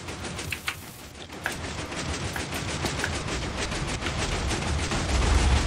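Gunfire and explosions from an online multiplayer video game during a group game night, a steady dense wash of bangs and crackles with a few sharper blasts, fairly loud and continuous throughout.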